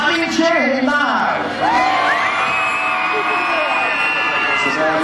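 A crowd at an outdoor jousting show at the Lincolnshire Show cheers and whoops for a favourite knight, a loud sustained roar of voices with shouts rising over it throughout.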